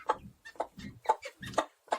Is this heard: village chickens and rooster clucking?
yes